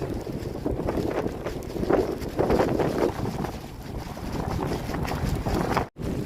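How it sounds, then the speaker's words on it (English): Strong easterly wind pumping during a storm surge at the St Lucia Estuary, a dense continuous roar of gusting wind and buffeting against the microphone, loud and close, with a brief dropout near the end and no talking. "This is the easterly wind and it's pumping."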